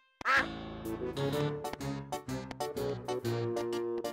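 The cartoon duck from the Pocoyo animated series quacks in a rapid, continuous run of loud, nasal, buzzy quacks, with no talking over it.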